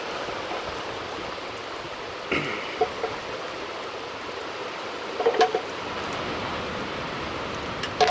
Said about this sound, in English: Oh, we got the rain coming in.